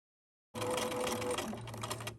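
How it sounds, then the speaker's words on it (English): A sewing machine stitches through felt, back stitching along a quarter-inch seam, running as a steady close mechanical whir with a low rhythmic hum, loud and alone after a brief silence. "then back stitching, and I'm lining up the bottom edge of my felt with the edge of my presser foot"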